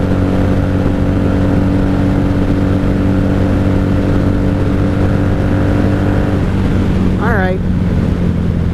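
Steady engine drone of a 1997 Honda Magna VF750C motorcycle cruising a highway at night, constant and loud from the rider's position, with a short rising tonal chirp near the end and the rider speaking over it.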